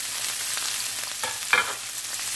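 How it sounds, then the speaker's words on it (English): Peppers frying in sesame oil in a pan for beef and broccoli give a steady hiss of sizzling, with a couple of soft stirring scrapes near the middle, close and even, with no talking. "And what you want to do is just cook your peppers until they're done enough for you."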